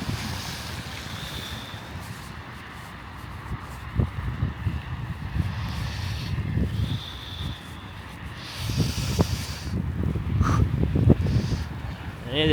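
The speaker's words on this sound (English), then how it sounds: "It is windy, of course." Gusting wind buffets the microphone on a snowy winter walk along a Toronto street, a steady low rumble with louder bursts, under intermittent talking.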